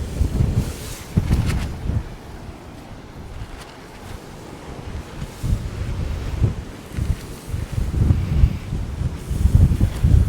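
Strong wind buffets the microphone on a rough ocean beach in Brookings, Oregon, with heavy low rumbling gusts and crashing surf rising and falling throughout, no voices heard.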